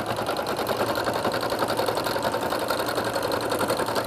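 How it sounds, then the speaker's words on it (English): A sewing machine stitches through bulky fleece, running at a fast, steady rhythmic hum and clatter, loud and close without pause. "I find that fleece you kind of want to pull it through the machine more because it's so bulky."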